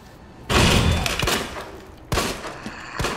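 Two sharp gunshot bursts in Resident Evil 2 (2019), the first followed by rattling echoes and a few softer shots, loud and close with no talking.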